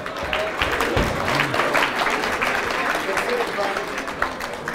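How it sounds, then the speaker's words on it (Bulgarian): Audience applauding for Kiro, a participant at the closing ceremony of the QA: Challenge Accepted 4.0 conference, with steady dense clapping filling the room, a few louder claps and voices mixed in. "Аплодисменти за Киро."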